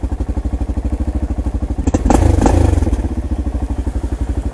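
A 600cc single-cylinder supermoto-style motorcycle idles close by with a steady, rapid thumping pulse, swelling into a louder, rougher burst partway through before settling back to the even idle.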